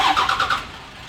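Starter cranking a Cummins diesel in a highboy truck with no fuel, a short run of about five rhythmic turnover pulses that stops, leaving a quiet tail.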